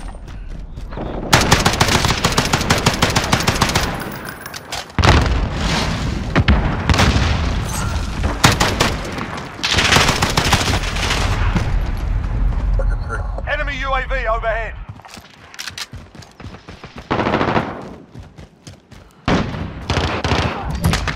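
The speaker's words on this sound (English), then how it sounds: "Stop shooting at me!" Gunfire in Call of Duty Modern Warfare multiplayer, with loud bursts of automatic rifle fire and booming explosions that come in repeated clusters, mixed with voices talking over the action.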